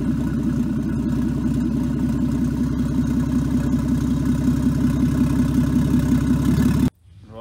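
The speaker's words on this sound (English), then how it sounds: "just going to start it, and without any revving or anything" A naturally aspirated Ford Barra engine with a turbo conversion idles steadily with a low, even rumble and light mechanical clatter for several seconds, then cuts off abruptly.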